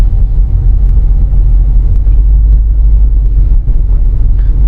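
Steady low-frequency road rumble and drivetrain drone fill the cabin of a rear-wheel-drive Suzuki Grand Vitara SUV on the move, loud and constant with faint wind noise over it.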